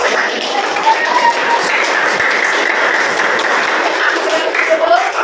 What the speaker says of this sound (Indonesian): Oke, satu tepukan buat kalian. Kasih aplaus semuanya.